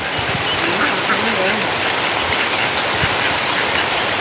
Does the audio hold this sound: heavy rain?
yes